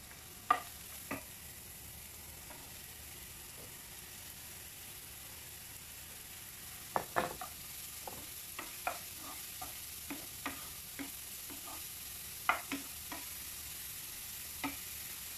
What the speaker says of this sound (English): And while the mushrooms are cooking, take your handful of leaf of parsley.